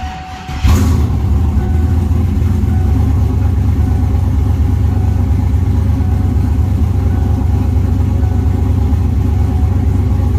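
Turbocharged 6.0 engine swapped into a Foxbody Mustang with a 4L80E transmission, starting up and then idling with a loud, steady, close rumble that holds unchanged for the rest of the stretch.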